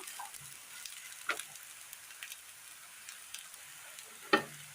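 A curry mixture simmers in a covered pan and gets an occasional stir, a faint steady sizzle with a few soft utensil scrapes and one sharper clink near the end, no voices.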